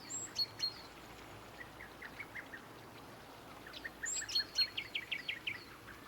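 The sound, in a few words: birds singing and small fountain in video game Botany Manor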